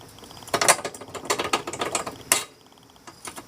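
Close ratchet clicking runs in rapid bursts as a wrench tightens the lower rear differential bolt on a Can-Am Outlander ATV, steady and fairly loud, then tapering off at the end.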